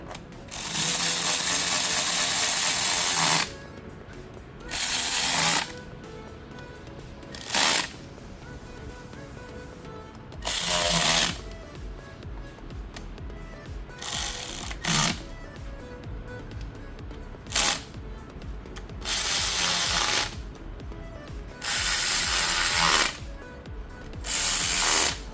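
Last bolt being removed from a ZF 8HP automatic transmission on a BMW, Jaguar or Range Rover Velar, heard as loud repeated bursts of a power tool or impact driver with pauses between.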